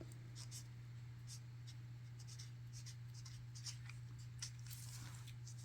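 A dual tip watercolor brush marker moves across thin copy paper in a series of soft, quiet scratchy strokes over a steady low hum, with no talking.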